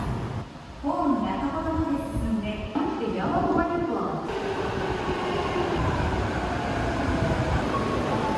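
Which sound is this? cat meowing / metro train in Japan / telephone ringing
metro train in Japan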